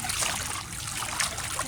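Clean drinking water poured out for birds, a brief close trickle and splash of running liquid with no voices.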